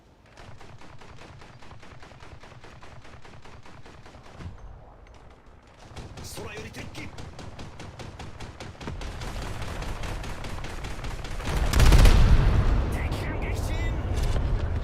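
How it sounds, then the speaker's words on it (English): Explosion effects in a naval warship video game, with a steady run of rapid gunfire-like cracks and booms building to a loud, dense blast about two thirds through, then continuing rumbling detonations. "I do kind of like those explosion effects with the bits just falling off of it."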